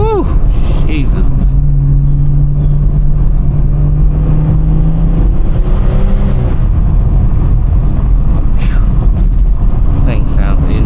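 A car engine revs hard through the gears, loud and close from inside the cabin, with a rising whine and a brief upshift, while someone shouts and talks over the roar.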